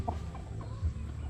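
A chicken from a breeder's flock clucks faintly in short, soft calls against a low background hum, with no talk.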